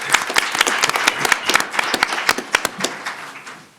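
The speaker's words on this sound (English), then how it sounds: "Round of applause as Joe comes forward." Audience at a county commissioners' meeting breaks into steady, dense applause that rises briefly and then tapers off, with no voices over it.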